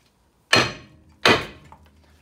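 Two sharp metallic hammer blows ring out about a second apart, knocking a seized brake disc free from the hub of a 2015 Vauxhall Corsa E during a brake pad and disc replacement; each strike decays quickly into a workshop background.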